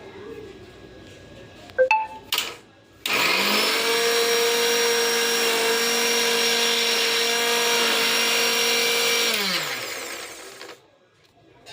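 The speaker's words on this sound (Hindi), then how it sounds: "कोशिश करते हैं मिक्सी से" An Indian mixer grinder grinds lentils: after a few short clicks and bumps, the motor starts with a loud, steady, high-pitched whine that runs for about six seconds, then winds down and stops.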